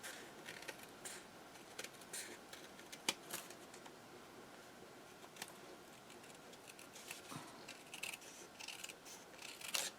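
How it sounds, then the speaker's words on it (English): Scissors snip through copy paper in a quiet room, a steady run of soft, close crisp cuts with light rustling of the sheets between them. "this is just cutting copy paper"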